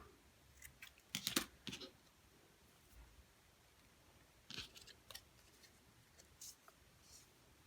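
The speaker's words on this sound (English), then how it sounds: "Okay, I think I can cut more actually, which I am gonna do." Scissors cutting paper while making dresses for paper dress-form die-cuts, a few quick soft snips in two brief clusters over a quiet room, faint and close.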